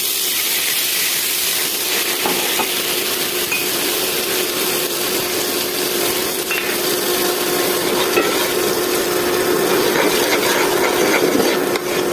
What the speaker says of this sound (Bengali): এবার মশলাগুলো আমি 2 মিনিট কষিয়ে নেব।